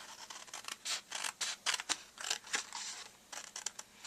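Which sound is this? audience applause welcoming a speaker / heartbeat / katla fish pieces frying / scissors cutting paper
scissors cutting paper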